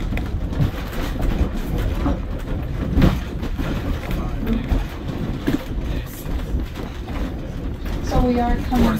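Narrow gauge railroad train in Portland, Maine running along the track, a low continuous rumble and rattle under people talking, with a brief tonal squeal near the end.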